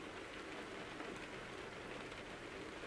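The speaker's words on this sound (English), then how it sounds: "It's raining again." Steady rain falls in the American Truck Simulator video game, a constant hissing patter of drops on surfaces that holds at an even, soft level throughout with no voices.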